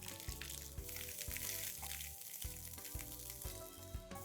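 Soya chunks fry in hot oil with curry leaves and hing, giving a soft, low-level sizzle broken by a series of rhythmic clattering bursts as the pan is handled.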